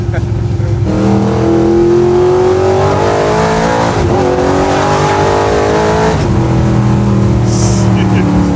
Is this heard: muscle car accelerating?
yes